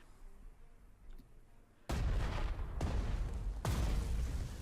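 Incendiary artillery fires in the Panzer Strategy war game with three loud, broadband booming bursts that roll into a sustained roar after a quieter stretch of faint game ambience.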